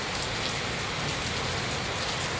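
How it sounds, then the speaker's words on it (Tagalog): Steady rain falling on a rainy morning, a dense, even hiss of drops on surfaces that continues without a break, with no voices. "Umuulan po dito sa amin."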